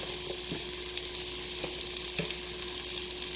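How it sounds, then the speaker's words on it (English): Onion powder and garlic powder seasonings frying with onions and garlic in a pan, a continuous close hiss of sizzling with a few faint stirring taps, no voices. "I'm going to just let the seasonings cook in with the onions and garlic."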